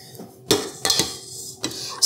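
Metal clinks and clanks of a dough hook being fitted onto a Hobart N50 stand mixer, three sharp close knocks spaced over a couple of seconds against a quiet kitchen background.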